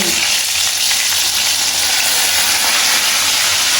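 Okra fries in a hot pan with a loud, dense, continuous sizzle and hiss, close up and steady throughout with no voices.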